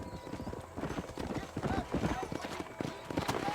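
Horse hooves clip-clop at a steady gallop in Red Dead Redemption, loud and close, with a brief whinny and a voice calling over them.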